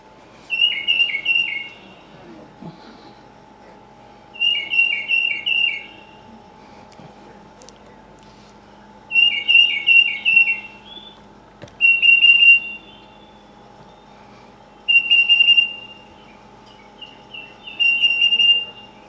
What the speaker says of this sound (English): You may never see the bird, but you know it's a tufted titmouse.